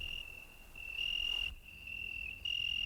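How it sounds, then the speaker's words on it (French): Steady, high-pitched cricket chirping drones on continuously, with a faint low rumble of warm wind underneath; no voices. "le chant habituel des grillons et un peu de vent chaud"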